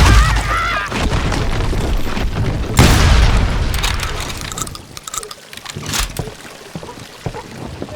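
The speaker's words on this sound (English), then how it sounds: "They're shooting in the street!" Shotgun blasts echo in a street shootout in the Call of Juarez Gunslinger video game: two heavy, booming shots stand out over a busy mix of clatter and mechanical clicks.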